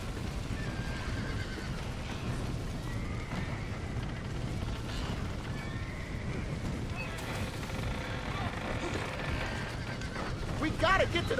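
A horse whinnies and its hooves clip-clop in the video game Red Dead Redemption, faint under steady wind and background noise, with a voice speaking in the mix.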